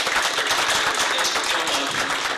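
Steady round of applause from a board of trustees meeting audience, dense continuous clapping at moderate distance with no pauses.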